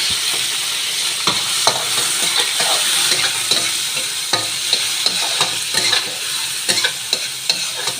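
Small dried shrimp sautéing in a pan for spicy udon give a steady close sizzle and frying crackle, broken by regular scraping and clacking strokes of stirring, with no talk.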